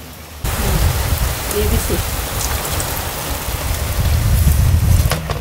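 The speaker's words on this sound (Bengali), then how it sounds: "দেখেন কি জোরে বৃষ্টি হচ্ছে" Heavy rain pours down in a dense, steady roar that starts abruptly and continues loudly throughout, with a brief spoken word partway through.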